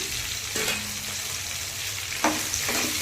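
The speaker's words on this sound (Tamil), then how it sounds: "நல்லா வதக்குங்க தக்காளி மசிஞ்சு வரணும்" Onion and tomato sautéing in a pan for a country chicken kulambu, with a steady close sizzle and a couple of spoon scrapes stirring through it.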